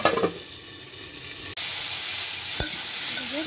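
Raw tomato frying in a pan gives a steady soft sizzle with a few clinks at the start, a sudden jump in hiss midway as the pan reacts, and a sharp tap later, with no talking.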